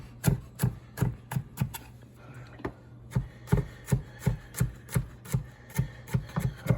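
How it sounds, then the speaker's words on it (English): Fresh garlic chopped with a knife on a cutting board, a rapid, steady series of close, crisp thuds that pauses briefly before resuming at an even rhythm, with no talking. "Chop up some fresh garlic here."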